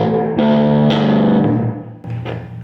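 Precision bass played through a First Act M2A-15 guitar amp, a few sustained distorted bass notes with a gritty, fuzzy speaker breakup, loud and close with no talking.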